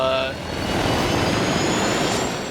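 A helicopter engine in Turok (2008) drones steadily with a thick, rumbling hum and a thin high whine, staying loud and close across the whole stretch.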